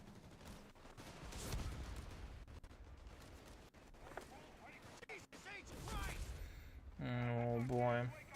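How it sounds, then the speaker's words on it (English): An MG42 machine gun fires in Company of Heroes 3 amid distant battlefield gunfire and explosions. It sounds fairly faint and sits under a commentator's steady talk. "MG42 working away now in middle"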